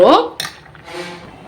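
A ladle or wooden churner mashes cooked lentils in a pot, with a sharp metallic clink at the start followed by soft scraping and squishing, close and brief.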